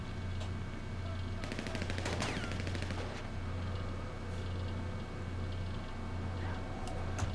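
Gunfire in GTA Online during the solo Icebreaker super yacht mission: a dense burst of rapid shots over a steady low engine-like hum, with scattered faint cracks afterward.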